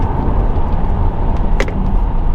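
A modified 2015–2021 Subaru WRX STI engine under load, a heavy low rumble with a breathy intake whoosh layered on top, steady and close, with one brief sharper hiss partway through.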